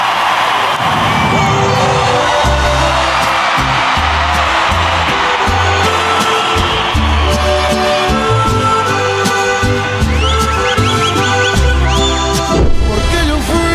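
Crowd at a jaripeo, a Mexican bull-riding event, in Mexico City, shouting and cheering with scattered whoops and yells over loud, pulsing band music, steady and dense throughout with a brief sharp burst near the end.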